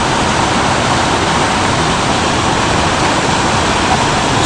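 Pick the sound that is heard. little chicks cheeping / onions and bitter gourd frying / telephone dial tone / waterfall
waterfall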